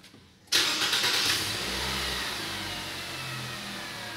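A Nissan car engine starts with a keyless proximity key, a sharp catch followed by a steady, fairly loud rev that settles into idle, close by with no talking.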